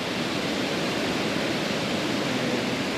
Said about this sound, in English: on the way to this monumental waterfall